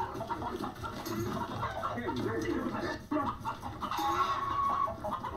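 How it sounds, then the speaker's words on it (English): Chicken clucking within a busy, noisy outdoor scene, with continuous murmuring sound throughout. "that chicken don't want to go"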